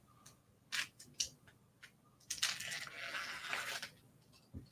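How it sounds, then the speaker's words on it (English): Scissors snip and slice through shrink-wrap plastic against cardboard up close, several sharp separate cuts followed by a longer crinkling, scraping cut, fairly quiet. "So I'm going to use the scissors and cut against the plastic"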